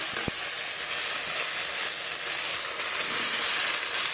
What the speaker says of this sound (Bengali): এর মধ্যে আমি ভেজে রাখা আলু, ফুলকপি দিয়ে দেব।